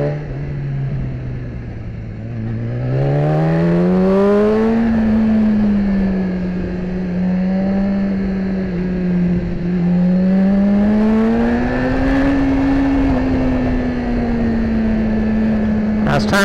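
A BMW S1000RR motorcycle engine drones loudly on a backroad, its pitch rising and falling through gear changes and acceleration over wind noise, with a voice talking over it.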